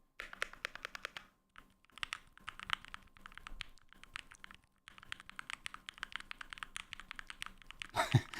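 Rapid bursts of clacky keystrokes on a hand-modded epoxy and wood gaming keyboard, typed close up in quick flurries with brief pauses, ending on a louder rattle.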